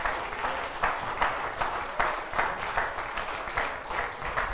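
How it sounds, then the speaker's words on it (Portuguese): Church congregation claps together in a rhythmic, pulsing applause that swells in regular beats, filling the room at steady volume with no speech. "Os irmãos podem aplaudir a Jesus ou não?"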